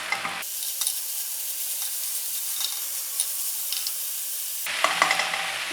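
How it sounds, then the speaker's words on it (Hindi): Minced mutton keema with turmeric frying in a pan for samosa filling, a steady close sizzle that starts abruptly and carries on throughout with occasional stirring scrapes. "अब इसको डाल के ज़रा भूनेंगे।"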